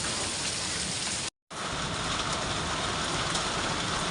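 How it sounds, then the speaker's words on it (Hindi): Hail falling in a mountain village in Gangolihat, Pithoragarh, Uttarakhand, a loud, dense, continuous patter of hitting ice with one very brief break, with no voices. "अब यहाँ गिरने लग गए ओले।"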